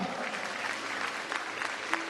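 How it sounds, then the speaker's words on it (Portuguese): A church congregation applauds steadily at moderate volume throughout, a broadband wash of clapping with no voices standing out. "Fique em pé e aplauda ao Rei que honra"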